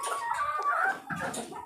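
Adler and Jersey Giant chickens clucking close by in a farm enclosure, a steady run of short, overlapping hen calls with a brief pause midway.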